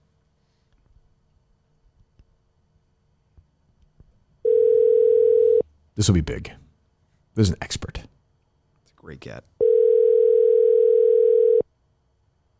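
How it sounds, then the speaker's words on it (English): Outgoing phone call ringing out in two long steady ringback tones at moderate loudness, with brief bursts of speech from people in the room between them. "Okay, calling him now? Yeah, we switched to his phone."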